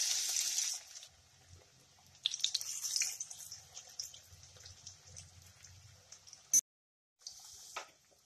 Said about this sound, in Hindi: अब तेल गरम हो गया है और उसमें हम ऐसे डाल देंगे।